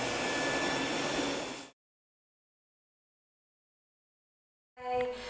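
A Rainbow vacuum cleaner runs and draws in air with a loud, steady broadband rush. It cuts out to silence for about three seconds, then starts up again.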